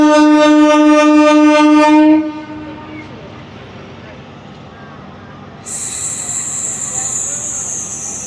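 A Guntur–Repalle MEMU train sounds a long, loud harmonic horn blast at Bhattiprolu station, then drops to a low rolling rumble before a high hiss rises near the end.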